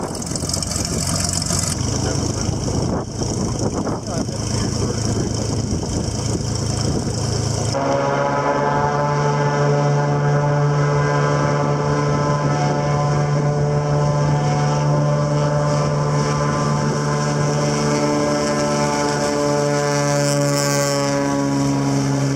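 Float plane on pontoons touching down in the Alaskan wilderness, its propeller engine droning loud and steady, the tone shifting partway through as power changes, heard close from onboard without talk.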